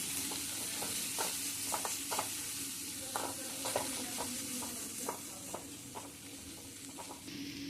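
Agathi flower thoran being stirred in a pan, repeated quick scrapes of a spoon over a steady low sizzle, fairly quiet and close, with no voices.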